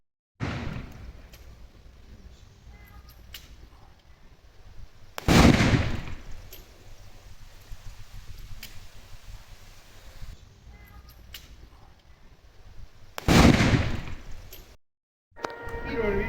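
A cannon is fired on a spoken command during a boat trip on the Great American Loop at Mackinac Island. Two loud, sharp blasts ring out about eight seconds apart over an outdoor background, with people talking in between.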